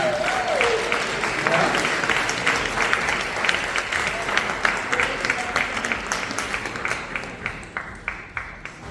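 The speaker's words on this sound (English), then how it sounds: "one more round of applause for the Hub Seniors and Freshman Group" An audience in a theater claps steadily at a seniors' talent and fashion show, a dense sustained round of applause that thins toward the end into scattered individual claps, with a voice audible early on.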